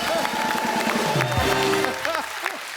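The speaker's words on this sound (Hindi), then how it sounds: "एक बार अभिषेक भाई के लिए जोरदार तालियां हो जाए।" A studio audience on a comedy talk show claps and cheers in a continuous loud wash, with a voice talking over the applause and musical tones sounding beneath it.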